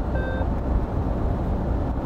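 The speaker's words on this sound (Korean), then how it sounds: "차선 이탈 경보장치를 이렇게 딱 약간 깜빡이 안 켜고 이탈 하듯이 나가면" A single short lane departure warning beep chime inside a 2020 Iveco Daily van, clear and brief at the start over loud steady road and engine rumble while driving, no talking.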